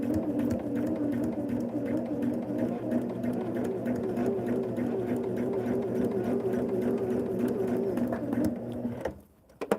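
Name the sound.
sewing machine stitching sweatshirt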